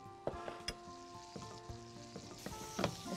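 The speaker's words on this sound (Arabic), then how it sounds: "وهاخد دلوقتي معلقة صغيرة من الزبدة وهبتدي أعمل الصوص بتاعتنا" Butter sizzling in a frying pan used for cooking duck breast, a faint close crackle with light clinks and a soft hiss rising toward the end, no voices.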